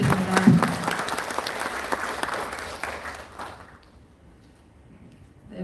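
Audience at a civic lecture event applauding the speaker, a lively burst of many clapping hands that dies away after about three seconds into near quiet.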